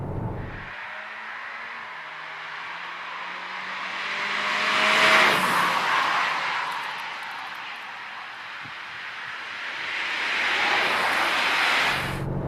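A Skoda Octavia vRS engine drones and rises as it revs, heard from inside the cabin through the interior speakers, swelling twice and easing back in between, moderately loud.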